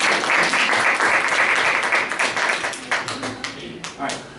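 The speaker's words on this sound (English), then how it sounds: "Round of applause." Audience applause after a team's project proposal presentation, dense steady clapping that thins and tapers into scattered claps near the end.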